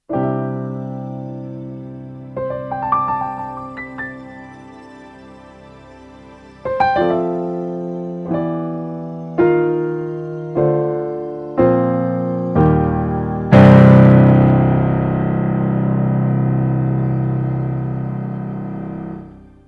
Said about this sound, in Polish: I teraz fortepian czerpie z Yamaha, a wszelkie pady z aplikacji.